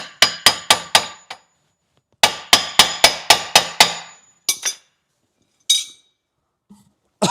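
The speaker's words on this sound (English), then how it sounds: "Trying to walk it out with the metric hammer." A metal hammer strikes a rusted axle in sharp, ringing metallic blows: a quick run of five hits, a pause, then a longer burst of about seven, followed by a few scattered taps, close and loud with no talk.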